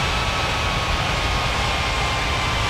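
A jet airliner takes off in the air traffic control game Unmatched Air Traffic Control, heard as a steady, loud, unbroken engine roar with no voices.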